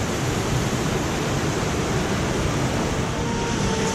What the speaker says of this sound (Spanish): Cae muchísima agua.